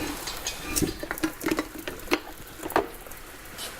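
Liquid nitrogen boils and crackles around smartphones, a Samsung Galaxy S8 and an iPhone 7, giving close, irregular sizzling bursts and sharp pops over a steady hiss.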